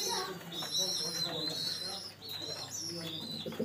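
Several pigeons coo in a loft, low throaty warbles close by, mixed with brighter chirps and whistles from other birds overhead, continuous across the scene with a voice talking briefly underneath.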